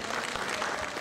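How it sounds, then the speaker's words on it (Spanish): Brief burst of audience applause at a ceremony honoring a municipal intendant, dense steady clapping filling the whole second at moderate level with no voices over it. "Vamos a darle un fuerte aplauso, por favor."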